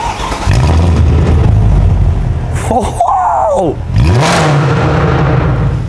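A powerful Mercedes C63 engine starts and revs loudly close by, with rising and falling engine pitch, and a brief spoken exclamation.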